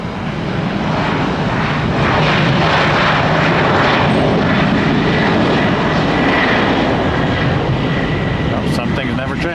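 A Boeing 737 in new livery takes off at Tampa International Airport during rush hour, its engines roaring loud and steady throughout, a broad powerful rush with a brief higher click near the end.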